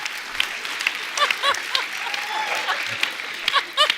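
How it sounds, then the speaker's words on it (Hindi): A studio audience at a comedy talk show breaks into applause, bright scattered claps swelling and rippling together for a few seconds, with whoops and voices mixed in. "ठोको ताली"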